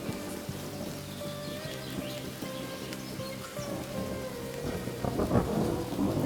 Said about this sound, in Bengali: বাইরে বৃষ্টি ঝরছে